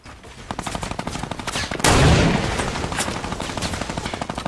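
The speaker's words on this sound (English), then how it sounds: "who's shooting at me?" Rapid automatic gunfire in the video game Fortnite, with a dense, fast rattle of shots throughout and one louder, heavier blast near the middle. No talk is heard over the shooting.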